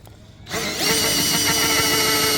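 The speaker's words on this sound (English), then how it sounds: "Hold the drill straight." A power drill starts up after a brief quiet moment and runs steadily at a high whine, close by, with no talking.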